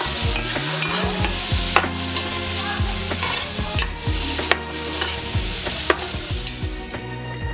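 Bacon lardons, tomato and tomato paste stirred in a hot pan: a steady sizzle with repeated scraping utensil strokes and occasional clinks against the pan, close and alone.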